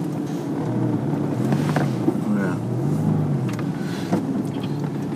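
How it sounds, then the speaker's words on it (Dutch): A Porsche 911 Carrera S idling, its flywheel giving off a low, steady rattling hum, heard close and continuous under people talking. "Het geluid wat je nu hoort, dat komt er van het vliegwiel af."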